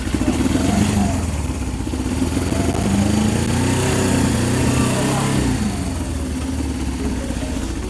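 A motorcycle engine runs loud and close, revving and shifting as it pulls away, with a steady rough drone throughout.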